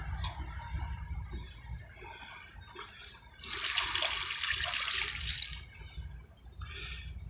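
Liquid fertilizer poured onto a mounted orchid gives a rushing splash of water lasting a couple of seconds, with softer trickling and dripping around it as it drains, over a quiet background.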